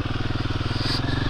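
A motorcycle engine idles close by, a steady rapid low throb with even pulsing and no other sound.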